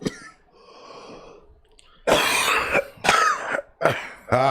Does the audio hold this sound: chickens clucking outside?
no